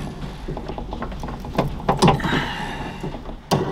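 Hand tap or die cutting threads on a metal workpiece in a lathe workshop, steady grinding, ratcheting turns with occasional louder metallic clicks and scrapes, close up with no talk.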